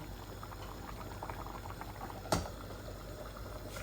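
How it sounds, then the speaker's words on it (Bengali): A pot of chicken biryani with rice boils steadily, a soft continuous bubbling and simmering texture heard close up, with one brief sharper clink partway through. "জলদি বলক এসে গেছে"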